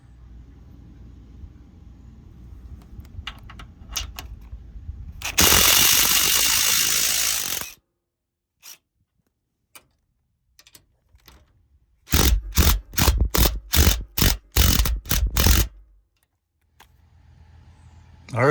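Two 17 mm bolts are loosened and removed with a wrench while fitting tow hooks to a 2022/23 Toyota Tundra, heard as a long scraping ratchet burst followed by a rapid series of close, loud clicking ratchet strokes, with quiet gaps between.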